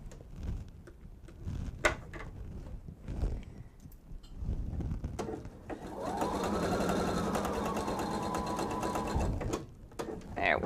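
Sewing machine stitching through the thick crossing seam where several pieces of fabric join on a bench pillow, starting with scattered clicks and handling noise, then a steady whirring run of several seconds before stopping.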